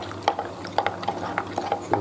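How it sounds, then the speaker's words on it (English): A spoon stirs dextrose powder into a glass of orange juice, giving light, close clinks against the glass at a steady pace of roughly two per second, with no talk. "Throw it in, and then just stir."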